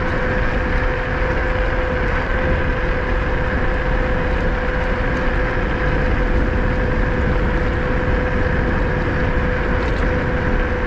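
Kugoo M4 Pro 17Ah electric scooter from 2020 cruising steadily at about 51 km/h, giving a continuous loud rush of wind and road noise with a steady motor whine, no pauses or talk.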